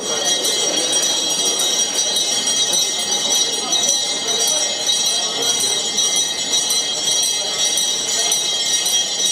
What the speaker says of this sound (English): I think that bell signifies the start of the auction.